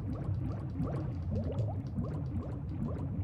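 Water sloshes and bubbles steadily around a character dropping into it in the PC game Sphinx, a dense churning wash that carries on without a break and with no talk over it.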